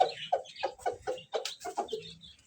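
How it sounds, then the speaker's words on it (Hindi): A hen clucks in a village poultry setup, a run of close, moderately loud clucks in quick succession with short gaps between them. "यार इस मुर्गी को भी नीचे छोड़ देना है मैंने, ताकि नीचे तैयार हो"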